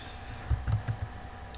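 A few soft key presses tap on a computer keyboard, four or five light clicks close together against a quiet room hum.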